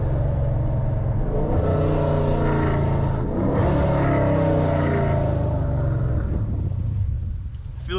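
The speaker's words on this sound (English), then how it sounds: "Downshift here." A Dodge Challenger Scat Pack engine rumbles loudly from inside the car while driving, its pitch sweeping down and back up through a downshift, with deep continuous engine drone throughout.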